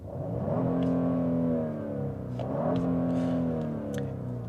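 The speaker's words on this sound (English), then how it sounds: "the engine itself has a relatively satisfying sound" A 2024 Genesis GV70 3.5T engine revs twice in close succession, each rise climbing to a strong growl and then easing back, heard up close with no talking.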